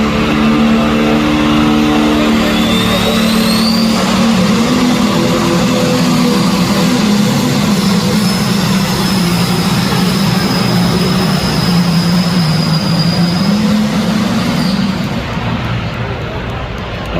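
A historic pulling tractor roars at full power during a tractor pull, its loud, sustained engine drone rising and holding steady before easing off near the end, with a crowd and announcer faintly mixed in.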